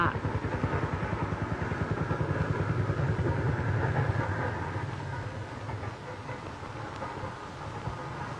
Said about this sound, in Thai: แต่แม้กระนั้นรถไฟก็ยังต้องแล่นผ่านช้า